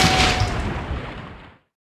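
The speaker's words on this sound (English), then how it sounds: "We thought an explosion happened over here" An explosion on a beach, a broad roaring burst that rumbles and fades away over about a second and a half before cutting to silence, no voices.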